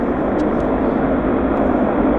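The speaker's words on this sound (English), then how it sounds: "lots of airplanes coming to and fro" Airplanes at Vancouver airport fill the air with a loud, steady engine roar, a continuous broadband rumble with no talk over it.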